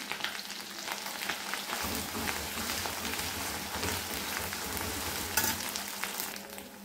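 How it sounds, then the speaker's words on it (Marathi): A ground paste of onion, garlic and ginger fries in oil with a continuous, close, rain-like sizzle, broken by occasional scraping stirs. "त्यात आता कांदा लसूण आणि अद्रकाचं जे वाटण तयार केलं होतं आपण ते घालत आहोत। हे छान तेलात भाजून घ्यायचं आहे आपल्याला।"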